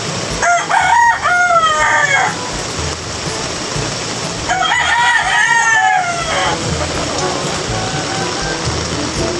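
A rooster crows twice in long, loud calls from a rooftop during a heavy typhoon downpour; the chickens there are soaked. Steady rain hisses on the surfaces throughout, with no speech.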